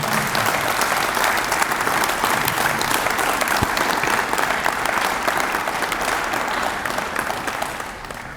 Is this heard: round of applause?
yes